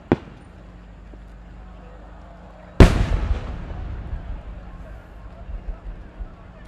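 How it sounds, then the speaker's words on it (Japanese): A 10-inch split-burst firework shell explodes at a fireworks festival: one deep, loud boom arrives after a faint pop and quiet stretch, then rumbles and echoes away over several seconds while a voice is heard in the background. "割り物花火の部10号2発、上り曲付き、八重市パステル変化服"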